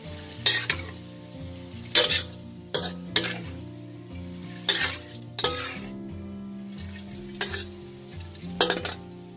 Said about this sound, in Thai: เราจะเจียวหอมแดงเราให้เหลืองนะคะ